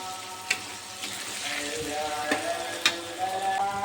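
Ginger garlic paste stirred into frying potatoes and onions in a hot pan, a steady close sizzle with a few sharp spatula scrapes and knocks.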